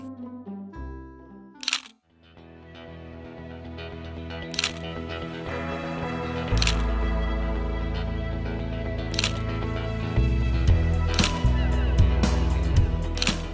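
Shutter clicks from a Fuji X-E3 mirrorless camera: a string of crisp, close, quiet single clicks spaced a few seconds apart, heard over a music bed that swells louder.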